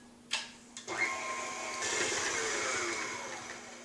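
An electric mixer beats cream cheese and butter at medium speed in a bowl, starting with a couple of clicks and then whirring steadily and loud close by, with no voices.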